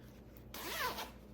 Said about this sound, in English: There is a zipper on this side and then a zipper on this side.